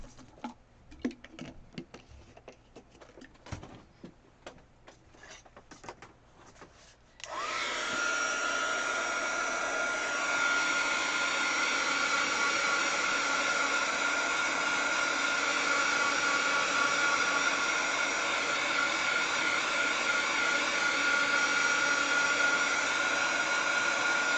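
A hair dryer switches on partway through and blows steadily and loudly, drying freshly applied glitter; quiet ticking and tapping come before it starts.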